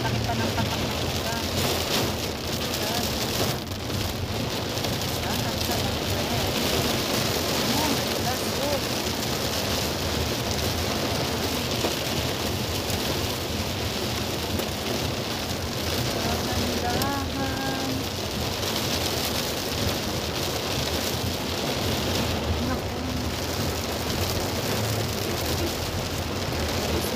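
Heavy rain with big drops falls steadily, a dense, loud and continuous patter on surfaces with some wind, while people talk briefly over it.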